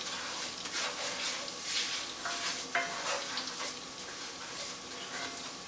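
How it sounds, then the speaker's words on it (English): Risotto rice browning in a hot pan while being stirred occasionally, a continuous close sizzle with soft scraping strokes running steadily throughout. "you're going to want to start your risotto and brown it for probably, I would say, about 3 minutes. Just going to stir it occasionally."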